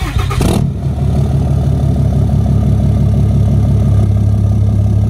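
A 4th Gen Cummins diesel pickup tuned to about 600 horsepower, on 24x14 wheels with 2-inch spacers, idles loud and close with a deep steady rumble after a brief higher rev at the start, with no talking.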